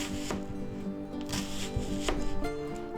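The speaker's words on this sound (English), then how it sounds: "Now this is about 1/2 an onion, but we're not going to use it all, so we're just going to cut it up in chunks" A knife chopping half an onion into chunks on a cutting board: a quick series of close, crisp thuds with irregular rhythm over a faint steady background hum.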